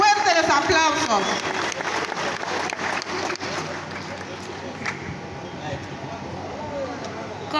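A crowd claps at an outdoor village band audition, a strong burst of applause that softens over several seconds while music and voices carry on underneath.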